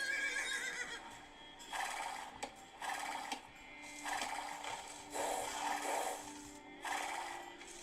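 Scout cavalry horse in Age of Empires 2: Definitive Edition, several whinnies and neighs in a row with faint hoof clip-clop, clear and close over a quiet game backdrop.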